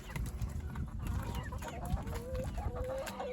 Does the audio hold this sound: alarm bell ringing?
no